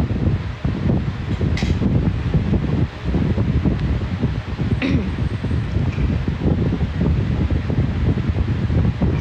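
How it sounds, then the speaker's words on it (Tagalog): Gusty wind buffets the microphone with low rumbling roar, rising and dipping in waves, with faint rustling behind it. "Sarap ng hangin, guys."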